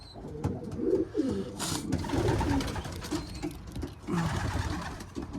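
Homing pigeons in a loft give soft, low throaty coos that repeat in overlapping bursts, close by and moderately loud, with rustling and some fluttering among them.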